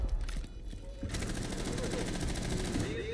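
Rapid automatic gunfire in the online shooter Rainbow Six Siege rattles on as a continuous burst of close shots after a short gap, with game sounds and some voices in the background.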